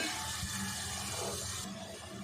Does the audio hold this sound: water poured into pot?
yes